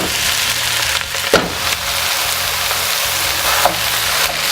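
Nine crushed garlic cloves fry in a pot over a kamado grill, giving a steady close sizzle with a couple of brief clatters from stirring.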